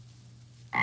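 A single frog croak starts abruptly near the end after a faint low hum, short and fairly close.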